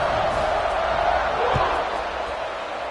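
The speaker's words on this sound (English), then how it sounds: "this crowd is buzzing after that last score" Steady roar of a football stadium crowd buzzing after a touchdown and extra point, a dense continuous murmur of many voices with no single standout shout throughout.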